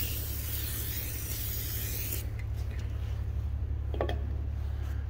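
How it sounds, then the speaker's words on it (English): Brake cleaner sprayed onto the steering clutch shaft of a Caterpillar RD-4 tractor, a steady close hiss for about two seconds over a constant low engine-like hum, followed by faint scraping and small knocks. "Shoot a little brake clean in there just to kind of get that dust off of there."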